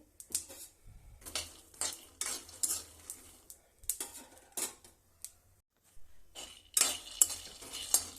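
Dry coconut and jaggery pieces fry in a pan for a Sankranti sweet, giving irregular crackling bursts mixed with metallic stirring clatter, close by and fairly loud.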